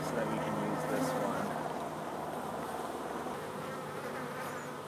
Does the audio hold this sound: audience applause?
no